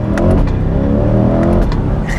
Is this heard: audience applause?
no